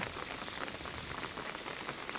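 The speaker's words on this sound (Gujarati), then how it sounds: "વરસાદ ખૂબ વધી રહ્યો છે" Steady unseasonal rain patters densely on a surface, a constant even hiss of drops with no pauses.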